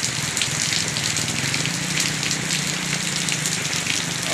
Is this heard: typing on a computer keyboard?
no